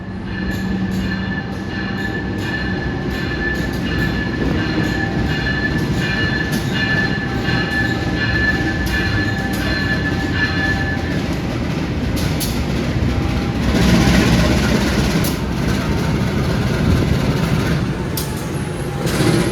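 The Sri Tanjung economy train rumbles along the rails toward Ketapang, Banyuwangi, with a steady low roar, rhythmic clacking and occasional squeals, swelling louder near the end.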